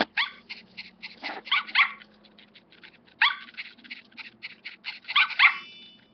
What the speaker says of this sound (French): vous entendiez comment elle aboie